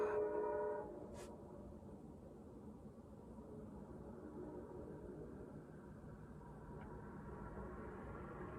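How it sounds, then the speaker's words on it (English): A train passes in the distance, a faint horn blast at the start followed by a low steady rumble of rail cars rolling by, quiet and continuous, with no talking. "I'm just gonna wait for the train to go by."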